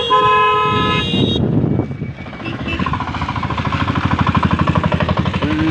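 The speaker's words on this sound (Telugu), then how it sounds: "full traffic friends," Heavy road traffic on the way to the Nasanakota Muthyalamma temple, with repeated car horns honking loudly up close, first a sustained toot, then a dense rhythmic rumble of engines and vehicles.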